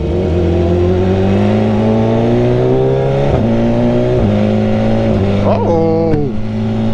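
A loud 2021 BMW S1000RR motorcycle engine revs hard and climbs through gears with a quickshifter, pitch rising then dropping at each quick shift, close and continuous.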